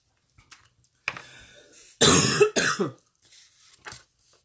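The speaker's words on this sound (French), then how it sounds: "Je suis désolée hein, pour ma toux." A few harsh coughs and throat-clearing bursts, close and loud, with quieter breaths and small noises between them.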